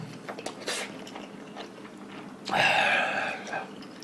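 Close-up chewing and slurping of beef seaweed soup ramen eaten with seaweed, soft wet bites followed by a louder, longer slurp in the middle, with no talk.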